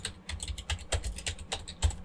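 A quick burst of typing on a computer keyboard while entering a git bisect command: a dozen or so crisp, close keystrokes in an uneven but rapid rhythm, with no talking.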